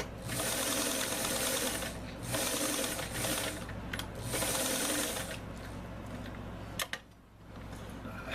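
A domestic sewing machine runs in steady bursts while stitching a seam in fabric, whirring continuously for about two seconds at a time with brief pauses and a final back-stitch, close and fairly loud.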